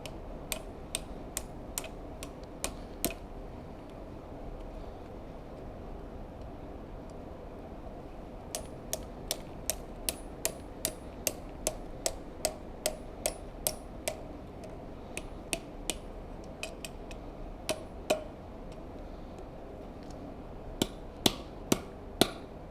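Hot metal being hammered on an old-world stake anvil, sharp ringing blows struck in quick bursts with short pauses between, close and clear against a quiet background, no talking.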